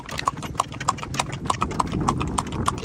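Hooves of a trained horse pulling a tanga in Pakistan's Ghourghushti area clip-clop in a steady, brisk rhythm of sharp, close knocks over a low rumble of wheels and road noise.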